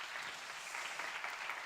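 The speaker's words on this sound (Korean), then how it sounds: "우리 하나님께 우리 영광의 박수 돌리도록 하겠습니다" Brief, steady applause from a Korean church congregation at a university committee worship service, offered in praise to God. The dense, even clapping fills the clip without any voices over it.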